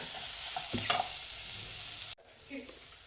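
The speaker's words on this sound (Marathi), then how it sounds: "चांगलं याच्यावर परतून घ्यायचा, कांदा मऊ करून घ्यायचा आहे." Onion sizzles loudly in a pan while being stirred and sautéed until soft for ragda, a continuous close frying hiss with a few scraping strokes before it cuts abruptly to a quieter simmer.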